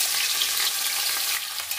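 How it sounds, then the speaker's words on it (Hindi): Tadka of asafoetida, red chili, crushed garlic, ginger and green chili frying in hot oil for carrot kadhi, a loud close crackling sizzle that stays steady and eases slightly near the end, no talk. "तो अब इसमें लगाएंगे तड़का, तड़का लगाएंगे हींग, लाल मिर्ची, कुटा हुआ लहसुन अदरक, हरी मिर्ची का पीस।"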